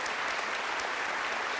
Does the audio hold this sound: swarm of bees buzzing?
no